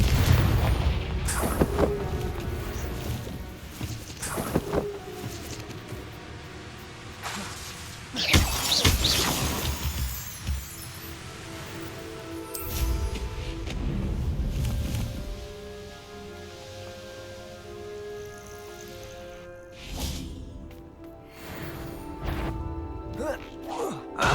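Blasting-curse explosions from the Hogwarts Legacy video game on Xbox Series X: sharp booms and shattering crashes. Spell-casting shouts and game music run between them.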